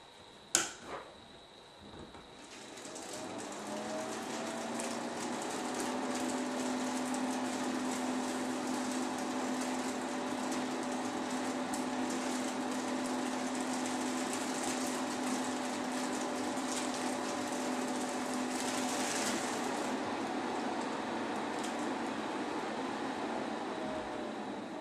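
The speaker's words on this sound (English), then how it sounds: "First test, YS Tech 120 millimeter fan." A YS Tech 120mm case fan runs in a restricted-box airflow test. A sharp click sounds first, then the fan spins up into a steady, fairly quiet whooshing hum with a faint tonal drone, ending with a soft knock.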